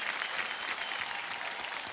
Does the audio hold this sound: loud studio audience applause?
yes